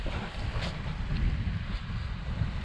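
Strong wind buffets an outdoor microphone during a long-distance bike ride, a continuous rumbling roar with gusty swells and no talking.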